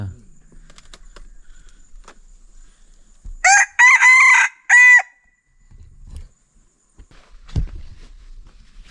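A close red jungle fowl rooster lets out a single loud crow in a few bursts, surrounded by near silence and a couple of soft low thumps.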